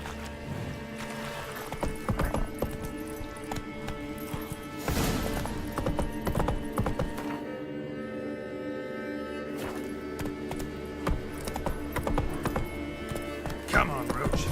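Roach the horse gallops in The Witcher 3, with a steady, rhythmic clip-clop of hooves running throughout, a brief whinny, and game ambience and bits of music in the background.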